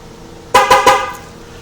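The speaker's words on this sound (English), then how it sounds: "The horn will honk 3 times." A Ford Super Duty truck horn, 2008-2010 F-250 class pickup, honks three quick times close by during remote start setup, each blast short and loud, followed by quiet.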